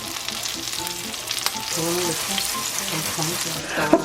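Shrimp frying in a hot pan, a constant crackling sizzle with occasional small pops, close up and fairly loud.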